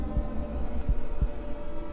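A low, thumping heartbeat sound effect with three soft, evenly spaced beats over a steady dull hum, no voices present.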